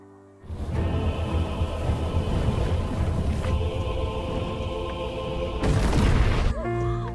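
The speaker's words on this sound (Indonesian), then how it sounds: "sebuah ledakan menjadi tanda kematian untuk Paul serta kemusnahan untuk hiu itu" A film explosion destroys a shark and an oil rig, rolling out as a deep, sustained rumbling boom layered with tonal, groaning sound effects. It swells into a louder burst near the end before cutting away.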